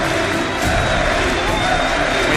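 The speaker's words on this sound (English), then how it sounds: "We hear the crowds here." A large crowd roars and cheers continuously, a dense wash of voices filling an arena at the 2014 League of Legends All-Star event in Paris.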